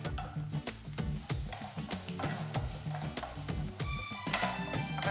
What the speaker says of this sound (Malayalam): ജിഞ്ചർ ഗാർലിക് പേസ്റ്റ് നമുക്കൊന്ന് ഇളക്കാം